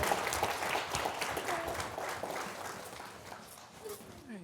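Courtroom audience at an adoption day hearing applauding a newly adopted family, a burst of clapping that starts full and gradually thins out and fades.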